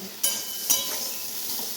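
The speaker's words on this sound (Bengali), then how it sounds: "সিম্পল রান্না চলছে এখন উচ্ছে ভাজা" Sliced bitter gourd frying in oil in a pan, a steady close sizzle broken by a couple of sharp utensil scrapes and clinks as the pieces are stirred.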